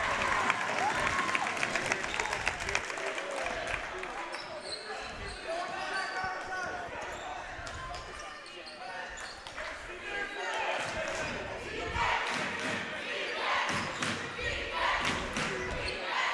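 Spectators at a boys varsity high school basketball game between Monument Mountain and Taconic roar and applaud steadily across the gym, with squeaks and thumps from the court and a commentator talking over the din.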